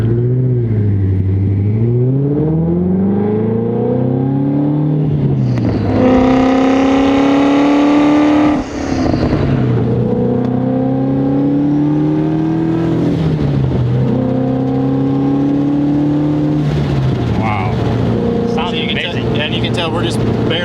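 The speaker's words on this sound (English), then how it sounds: "start to feel the turbo starting to spool up a little bit and get some power down low" A 2017 Shelby GT350R 1000R twin turbo pulls hard through the gears, its engine note climbing in pitch between several abrupt shift drops, loud and close from inside the car.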